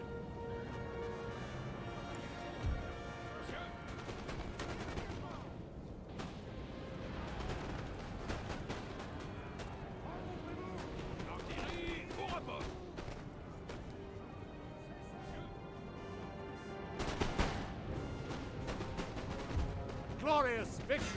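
Musket volleys and artillery fire from a Napoleonic battle in Napoleon Total War, scattered shots and booms over a continuous dense battle din with music, louder bursts near the end.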